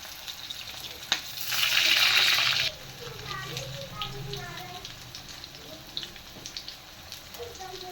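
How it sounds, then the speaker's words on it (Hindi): Nargisi chicken koftas lightly frying in a pan, with a loud burst of sizzling that settles into softer crackling and pops while a voice talks. "सिर्फ हल्का सा फ्राई कर देंगे इनको।"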